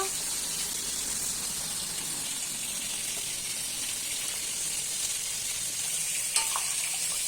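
Mustard seeds fry in a pan with a soft, continuous hiss and sizzle at low level, fairly even, with a brief clink or pop near the end.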